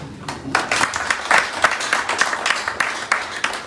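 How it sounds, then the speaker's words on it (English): An audience claps steadily throughout, a dense patter of many hands, fairly loud and close, with no talking. "Do we clap at all?"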